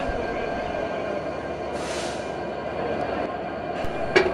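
A modern 6630-series diesel-electric locomotive on the Rupsha Express in Bangladesh rumbles steadily with rail noise, a brief hiss partway through and a sharp metallic clank at the end.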